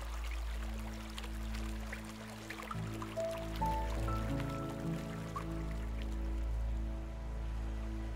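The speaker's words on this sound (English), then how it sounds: "At times, water starts to flow over the corten steel," Water flows and trickles over a corten steel weeping wall at the Tucson January 8 Memorial, a soft continuous patter beneath low sustained tonal hums that shift partway through.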